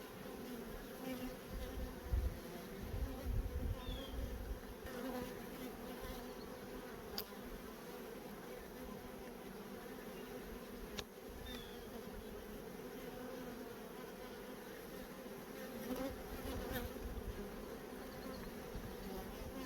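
Honey bees buzz around a frame of honey pulled from a hive super, a dense, continuous hum close by at moderate volume, with a few individual bees passing nearer.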